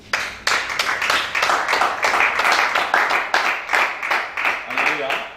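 A church congregation at a teaching service applauds, rhythmic hand claps sustained steadily throughout at close range.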